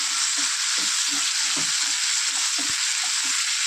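Loud, steady sizzle of a spicy jackfruit seed curry frying in a pan as tomatoes are stirred in, with soft rhythmic scrapes of the spoon under the constant hiss.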